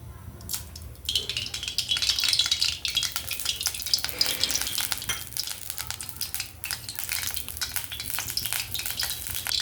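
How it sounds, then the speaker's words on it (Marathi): Oil heats in a kadhai for tempering, crackling and sizzling up close in dense irregular pops, with some utensil scrapes, loud and without speech. "तेल टाकते फोडणीसाठी."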